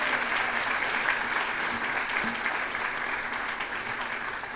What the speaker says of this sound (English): Can we please have a round of applause for all of our fantastic student speakers?